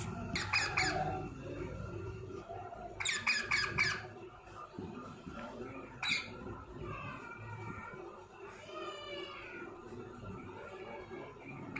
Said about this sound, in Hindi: और अब हम सुनाएंगे तोते की आवाज़।